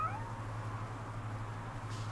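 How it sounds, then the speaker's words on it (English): A cat meows once in the RoboCop Rogue City video game, a short rising cry near the start that trails off over a steady low in-game hum, with faint ambient noise for the rest. "Little kitty cat."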